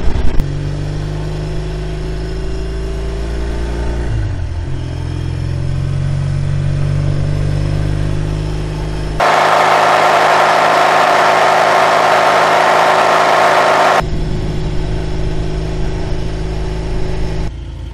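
A large lorry rumbling past, a loud continuous engine drone with a strong broadband roar swelling midway as it passes close, then settling back to a steady engine hum, no voices.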